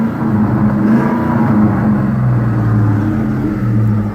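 A loud, close Ford Mustang Mach 1 engine rumbles steadily through its stock factory cat-back exhaust, the deep note rising and falling through a couple of gentle revs.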